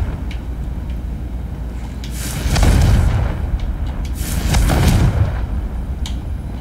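Confringo explosive spell from Hogwarts Legacy, two heavy booming blasts a couple of seconds apart, loud and close, each swelling into a rumbling roar before fading into a noisy background.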